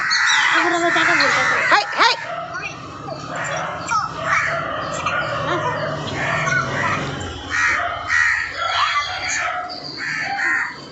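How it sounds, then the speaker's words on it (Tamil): A crow caws repeatedly and harshly while attacking an eagle, the calls near and loud amid other bird cries and talking voices throughout. "ஒரு காக்கா தான் ரொம்ப வெறியா போய் போய் அவனை அடிக்குது"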